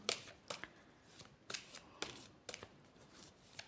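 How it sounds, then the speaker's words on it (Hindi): Tarot cards being shuffled by hand in a quiet room, crisp riffling bursts repeating about every half second, close and moderately loud with no talking. "तो कार्ड्स को शफल कर लेते हैं।"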